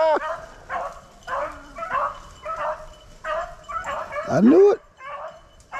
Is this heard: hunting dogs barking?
yes